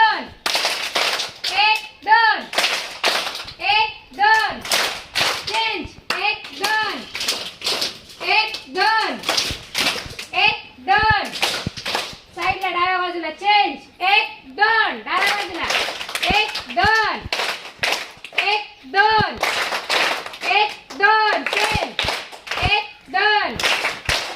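A group of schoolchildren clap in rhythm during a playful physical activity at school, sharp, regular claps in steady counted patterns, with a voice calling out the count over them.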